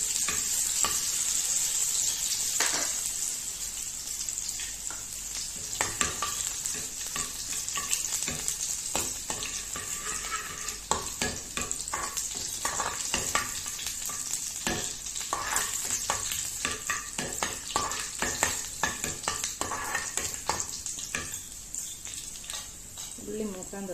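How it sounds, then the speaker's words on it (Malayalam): Onions sizzle and crackle steadily in hot oil with popping mustard seeds, with sharp stirring scrapes and clicks throughout while a person talks over the cooking. "അപ്പോൾ നമുക്ക് ഉള്ളി ഇട്ടെടുക്കാം."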